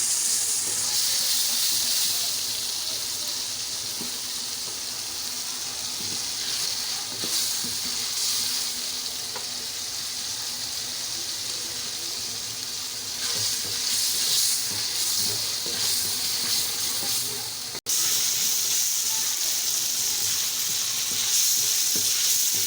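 Onions and tomatoes fry in a pan for a bhindi fry recipe, giving a continuous bright sizzle and hiss with occasional stirring scrapes. The sizzle briefly drops out and resumes near the end.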